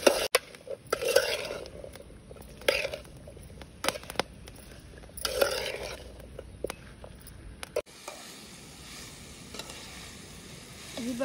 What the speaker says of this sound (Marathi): तर आता त्याला पूर्ण मिक्स करून घेऊ.